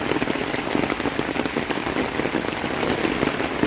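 Heavy rain pours down steadily onto the ground near flooded, washed-out field dirt, a dense, continuous hiss of drops with running water beneath, fairly close and with no voices.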